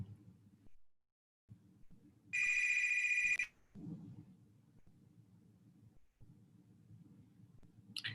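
A single ring from an electronic telephone sounds for about a second in the background, set against a low room hum and faint murmur; a short chirp comes at the very end.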